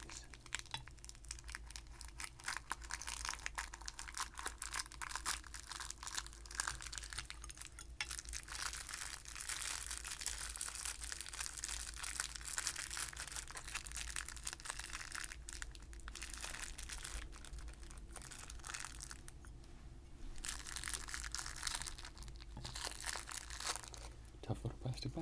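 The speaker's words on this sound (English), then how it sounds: "Tough little plastic bag." A tough little plastic bag of green mint candies is torn and crinkled close up, with continuous rustling, crunching and tearing over about twenty-five seconds, soft talk intermittently underneath.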